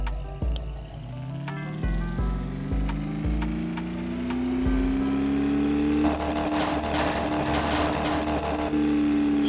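A car engine revs in a racing video game. A few clicks open the clip, then the engine note climbs steadily in pitch and settles into a loud, sustained high drone.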